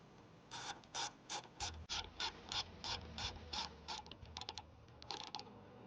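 Screws on an amber grill light bracket of a 5th-gen Chevy Tahoe or Suburban are driven snug with a ratcheting tool, giving a close, steady run of rapid clicking bursts with short pauses between them.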